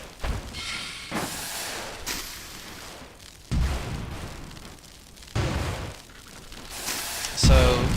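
Rifles fire aboard airships in the game Airships: Conquer the Skies, producing repeated loud bursts and thuds at irregular intervals over a rumbling battle background.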